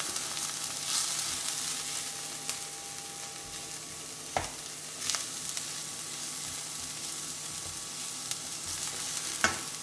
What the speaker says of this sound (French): On va maintenant incorporer la poudre de curry et la poudre de chili. On mélange.